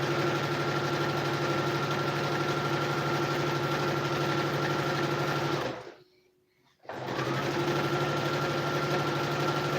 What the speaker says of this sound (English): I'm sewing the back panel.